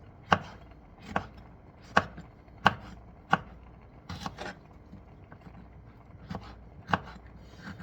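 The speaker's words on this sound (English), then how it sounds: "just simply chop it up" A knife chops chili peppers for salsa on a board. The sharp cuts come about once every second and are close and distinct, with no talking.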